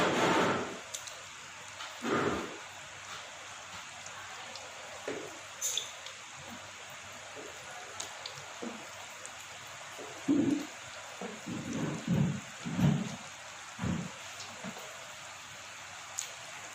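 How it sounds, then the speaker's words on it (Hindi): Malai khaja pastries frying in medium-hot ghee give a crackling, rain-like sizzle with bursts of bubbling, steady and close with no talk. "पहले हम ये फ्राई करेंगे, आपको बताएंगे किस तरीके से फ्राई होते हैं।"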